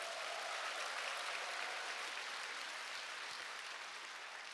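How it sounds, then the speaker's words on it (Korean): Large seminar crowd in a hall breaking into dense, sustained applause, a faint but continuous wash of many hands clapping together with no talk over it. "자기 자신한테 큰 박수를 보내주시기 바랍니다"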